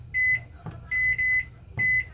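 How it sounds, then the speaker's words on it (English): Three bright electronic beeps from a convection oven timer as it is set for 3 minutes, each tone clear and steady, spaced apart over a faint low background hum. "Set the timer, 3 minutes."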